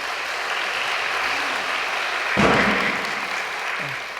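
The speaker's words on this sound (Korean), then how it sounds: "정말 귀한 축복을 내려주신 어머니께도 다시 한번 감사의 박수를 부탁드리겠습니다" An audience applauds in a hall at a church report event, steady broad clapping filling the room with a louder burst partway through, no clear talk.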